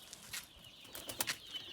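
Pigeons kept by relatives flap their wings in a few soft, quick flutter bursts, faint and close, with no talking.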